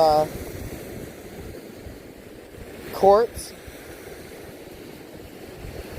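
Strong wind on a Lake Erie shore roars and buffets the microphone in a constant rumble, with a person speaking briefly near the start and again midway.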